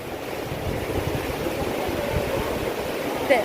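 Flowing river water rushes steadily and close by while a mundu cloth is washed in a village river, a broad continuous wash of water noise with a brief splash near the end.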